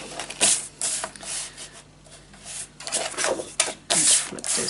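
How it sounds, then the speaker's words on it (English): Paper being cut for a scrapbook mini album, heard as repeated close rasping, scraping strokes of a trimmer blade or scissors in uneven bursts, fairly loud and with no talk. "I'm gonna cut mine at 2 inch"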